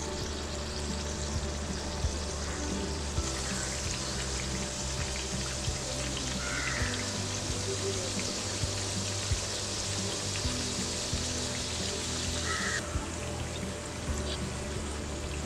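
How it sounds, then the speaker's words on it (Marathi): Karanji, filled sweet pastries, deep frying in hot oil, giving a steady, dense crackling sizzle with soft bubbling that runs throughout, fairly close and continuous with no talking. "करंज्यामध्ये पुरण भरून झालं आहे, आता करंज्या तळून घेऊया। तेल तापलं आहे,"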